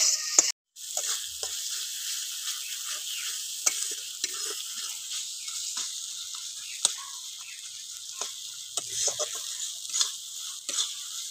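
Spice paste with salt and chopped tomato being sautéed, a soft continuous sizzle broken by light, irregular clicks and scrapes of a stirring spoon throughout.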